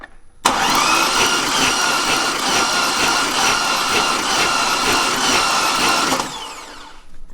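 A Chevrolet Corvette Z06 C6 engine with the valve cover off cranks over loudly and steadily for about six seconds, a rapid rhythmic churning that stops abruptly and leaves a faint tail.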